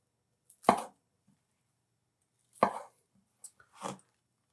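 A knife cuts a lemon pound cake into cubes on a board: two firm, close chopping strokes a couple of seconds apart, then a pair of quicker soft cuts, with quiet pauses between and no talk.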